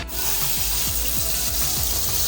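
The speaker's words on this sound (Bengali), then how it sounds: "এবার ক্যাপসিকামটাকে একটু ভেজে নিই" Capsicum fries in a pan with a loud, steady close sizzle and hiss that starts abruptly and continues throughout, with no voices over it.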